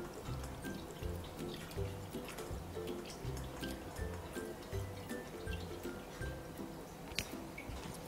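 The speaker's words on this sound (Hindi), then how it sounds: "इस छेने को हमने पानी से अच्छे से वॉश कर लिया है" Chhena (curdled milk from packet milk and vinegar) rinsed with water, giving steady wet dripping and sloshing with soft splashes throughout, close by and fairly quiet against a low background hum.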